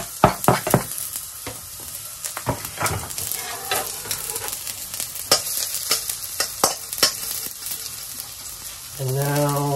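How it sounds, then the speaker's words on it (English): Garlic fries in hot oil with a continuous crackling sizzle, punctuated by repeated sharp stirring knocks and scrapes against the pan, close and fairly loud. "let's add in the garlic."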